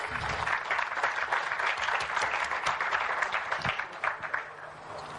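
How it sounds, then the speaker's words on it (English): Audience applause fills a students' day event hall, a dense, steady clapping from a large crowd that holds at full strength for about five seconds with no speech over it. "May we have a huge round of applause?"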